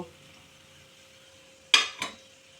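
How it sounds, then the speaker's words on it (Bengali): Fried gulab jamuns are lifted out of a pan, marked by two quick metallic clinks of a utensil against the pan near the end after a quiet stretch of faint background hum. "গোলাপ জামুনগুলো ভাজা হয়ে গেছে এবার তুলে নেব"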